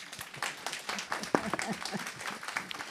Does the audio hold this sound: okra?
no